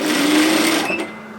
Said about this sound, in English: I'm just going to tack stitch that in, making sure the center notch matches